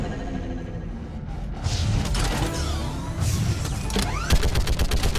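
A big mounted gun fires in Mass Effect 3 amid mechanical clanks and ratcheting, with loud, rapid bursts of shots growing denser toward the end over a rumbling battle background.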